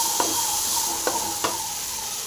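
Thuthuvalai (Solanum trilobatum) fruit frying with chili in a pan for pickle, giving a steady broadband sizzle with three sharp stirring clicks of a spoon against the pan; no talking.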